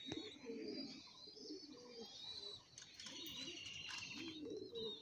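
Kotashi line pigeons coo in low, repeated phrases close by, with a wing flap and some higher chirping from other birds around them throughout.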